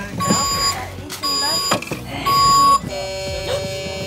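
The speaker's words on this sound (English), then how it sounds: "What'd the horn say? Beep, beep." A child's toy dump truck plays loud electronic beeps and tones in several short repeated bursts, mixed with people talking close by in a home.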